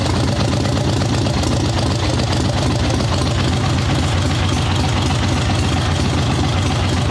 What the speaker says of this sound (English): Nice, low, thumpy idle.